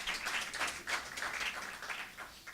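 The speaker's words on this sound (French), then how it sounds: "je vous demanderai d'applaudir chaleureusement" Audience at a literary closing-night tribute applauding warmly for poet Mohamed Marfi, a soft, fairly distant patter of clapping hands that pulses unevenly and stays steady throughout, with no talk over it.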